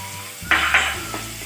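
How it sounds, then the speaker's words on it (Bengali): Ginger, garlic and onion paste dropped into hot oil left from frying potatoes, a brief bright sizzle burst with a couple of quick stirring scrapes over a quiet background. "ওতেই আমি 2 টেবিল স্পুন মতো আদা আর রসুনের পেস্ট দিয়ে দিলাম।"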